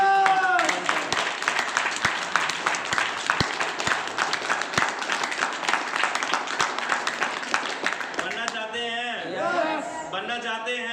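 A crowd at a business meeting claps loudly and densely for several seconds, then the clapping gives way to cheering and voices near the end.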